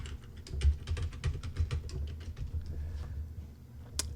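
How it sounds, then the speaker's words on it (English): A computer keyboard as a password is typed, with a quick run of close, soft key taps in an irregular rhythm and a low hum beneath, ending on one sharper tap, with no talking. "You type in your password,"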